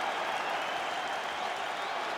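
Steady, dense crowd cheering and applause fills the arena after a five-round UFC 5 video game fight between Kyoji Horiguchi and Brandon Moreno, a continuous roar without breaks.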